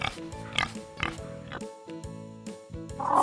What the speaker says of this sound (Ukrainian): свинка.